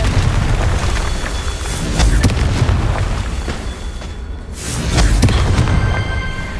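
A Confringo blast spell exploding in the Hogwarts Legacy video game, loud sustained booming rumble with a second swelling burst later, with no talk.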